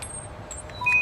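A ticket machine on a city bus gives a short electronic beep near the end, a thin steady tone over the low rumble of the bus interior.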